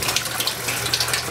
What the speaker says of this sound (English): We've got water.